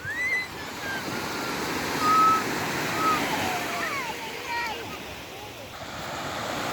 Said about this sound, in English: Kids are playing with the waves.